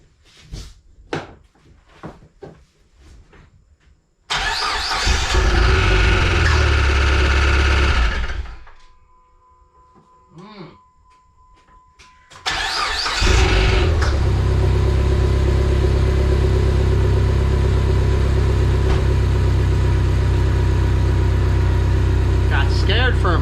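A car engine fires up for its first start after an aftermarket DCR push rod was installed under the dash. After a few clicks it cranks and runs loudly, cuts out, then catches again and settles into a steady, close idle.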